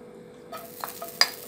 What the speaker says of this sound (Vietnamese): Rồi dầu nóng thì là sẽ cho cái gừng băm